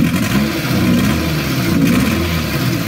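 Car engine idling roughly with a misfiring cylinder, a loud steady low rumble with an uneven, stumbling pulse and light clatter, heard close and alone.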